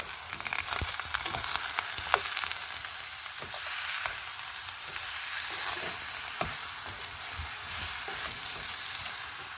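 Garlic sizzles in a hot pan while fish cake is stir-fried, a steady bright crackle with scattered sharp pops and spatters, close and continuous with no voices.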